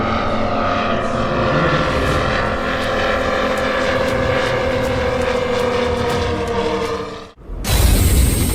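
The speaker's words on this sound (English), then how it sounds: "400cc Moki 5-cylinder 4-stroke radial engines drag this big RC plane fly smoothly in the sky." A large RC plane with 400cc Moki five-cylinder four-stroke radial engines flies overhead with a loud, steady droning engine roar that holds for several seconds before an abrupt cut to a harsher, noisier sound.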